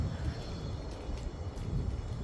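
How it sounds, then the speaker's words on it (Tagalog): An airplane arriving at Canberra Airport, heard from behind a warehouse by the parking area, as a steady, distant low roar mixed with wind buffeting the microphone. "padating na eroplano."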